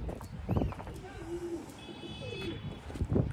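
Pigeons coo on a home rooftop in soft, low, rolling calls, with a few fainter bird notes and scattered light tapping nearby. Background voices are present, and the whole scene stays fairly quiet.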